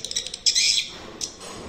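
Short, high-pitched chirping bursts of a swiftlet mating call come from an amplifier speaker, a quick series of clicks and then a longer buzzy chirp, with no talking.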